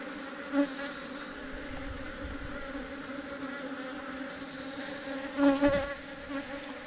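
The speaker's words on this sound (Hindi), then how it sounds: "मधुमक्खियाँ भी लड़ रही है आपस में" Honey bees buzzing and fighting at a merged hive with multiple queens, a steady close drone with tonal hum that swells briefly near the start and again louder toward the end.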